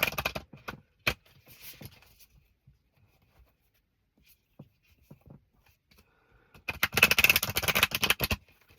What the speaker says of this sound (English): I'll do my best to shuffle this one.